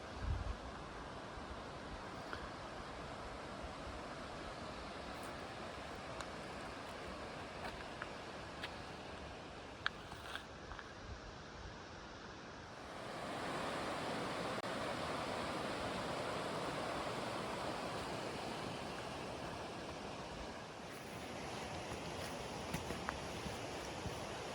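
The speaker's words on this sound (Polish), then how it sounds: "W dole szumi Roztoka." The Roztoka mountain stream in the Tatra Mountains' Roztoka Valley rushes far below a forest trail, a steady broadband roar of water that swells louder midway, with occasional footsteps and rustles close by.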